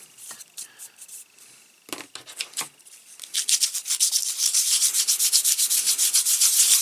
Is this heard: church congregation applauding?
no